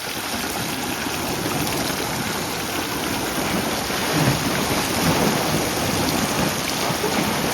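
Rock fish frying in hot oil, a dense, continuous loud sizzle and crackle heard close up throughout.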